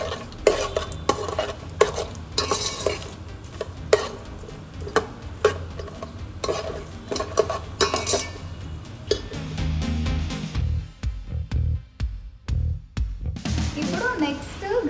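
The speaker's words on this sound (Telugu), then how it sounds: "ఇవన్నీ వేసేసుకొని చక్కగా లైట్గా వేపేసుకోవాలన్నమాట" Whole cloves, cardamom, star anise and shahjeera lightly roasting in oil for biryani, a close sizzle with clinking stirs and scraping knocks against the pan, quieter toward the end.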